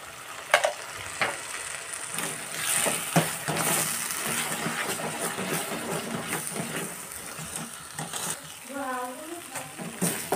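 Ground spices and peas frying in a pan for paneer masala, a steady sizzle with stirring scrapes and clinks running throughout, mid-distance, with no talk over it.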